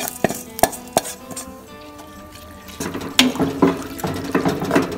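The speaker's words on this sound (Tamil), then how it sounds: "இப்போ இதை வந்து தாளிப்பு இதில் சேர்த்துடலாம்." A tempering is added to mashed taro with red gongura leaf, giving a few sharp clicks and knocks at first, then a close sizzle and clatter from the pan, with no talk.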